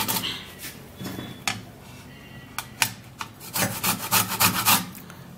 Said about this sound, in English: we're going to be getting the orange zest,